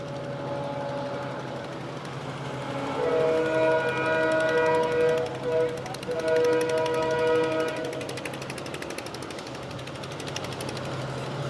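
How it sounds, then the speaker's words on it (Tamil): Chennai Mail express train crossing the Pamban sea bridge in strong wind, a sustained rumble and clatter that swells in the middle with a horn-like tonal wail, then fades over steady wind noise. "சென்னை மெயில் எக்ஸ்பிரஸ் வந்து இப்போ பாம்பன் பாலத்தில் வரக்கூடிய அந்த காட்சியை தான் இப்போ நீங்கள் பார்க்குறீங்க"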